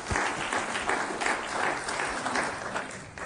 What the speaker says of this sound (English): some 115 graduates in all, which I think is also merits applause